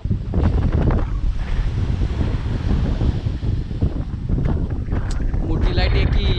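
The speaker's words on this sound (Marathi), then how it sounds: "लय मोठी लाट आली इकडं आली" Sea waves surge onto the shore at Dhanushkodi beach near Rameswaram, a rough rolling wash heavily mixed with gusty wind buffeting the microphone, with voices talking over it.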